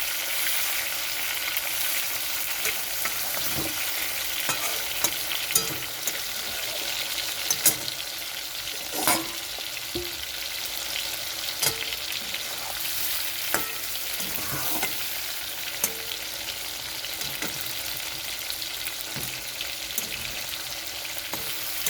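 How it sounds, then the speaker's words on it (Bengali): Shrimp fry lightly in hot oil in a pan, giving a continuous close crackling sizzle with scattered sharper pops and occasional utensil clicks, steady and fairly quiet throughout with no voices. "তো চিংড়ি মাছ ভাজা হয়ে গেছে"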